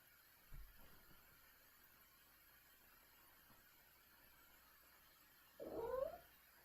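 A house cat lets out two meows indoors, a brief quiet one followed a few seconds later by a louder, drawn-out caterwauling cry, against a hushed room.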